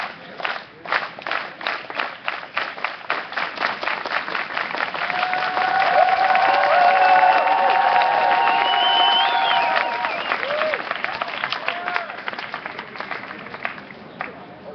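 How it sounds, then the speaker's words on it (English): A crowd at an Occupy Los Angeles general assembly gives a unity clap: slow rhythmic claps in unison that speed up into a loud, dense burst of applause with scattered cheers, then thin out into separate claps. "So please, one more clap."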